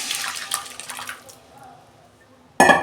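Mung dal tipped into a pan of spices already fried with turmeric sets off a hissing sizzle that gradually dies down, then a sudden loud burst of crackling near the end.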